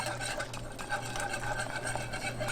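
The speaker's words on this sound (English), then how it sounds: "I'm using my whisk, and I pretty much have most of the cream cheese broken down and melted. But I'm just going to keep stirring." A whisk stirs melted cream cheese in a pan, giving a steady, continuous scraping and swishing at close range, with a faint low hum underneath and no talking.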